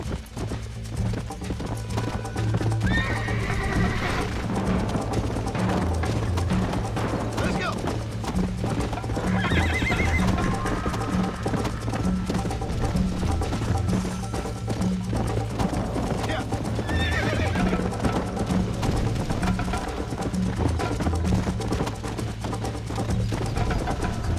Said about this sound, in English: Cavalo inútil do caralho.